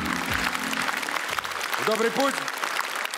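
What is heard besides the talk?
audience applause for comedian Dmitry Ksenofontov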